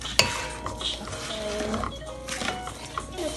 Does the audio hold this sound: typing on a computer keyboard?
no